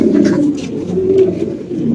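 Fancy Spanish pigeons coo in low, throaty, rolling notes that carry on without a break, close and fairly loud, with faint rustling and soft background noise but no talking.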